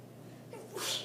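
A single sneeze bursts out in a chemistry classroom, sharp and fairly close, over a quiet room hum and lasting about a second.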